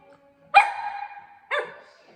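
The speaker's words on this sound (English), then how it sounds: "This is an Atlanta dog for real." A dog in Atlanta barks twice at close range: a sharp, loud bark, a brief pause, then a second shorter bark, with near silence before and between.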